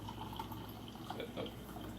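Liquid poured into a cup while making a veggie breakfast, a soft, quiet trickle and splash lasting about two seconds with faint dripping and no talk.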